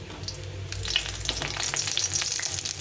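Dry red chillies, bay leaf, five-spice and fenugreek fry in hot oil for a Bengali lau shukto tempering, giving a steady close sizzle that swells after the first moment, with light crackles and spatters on top.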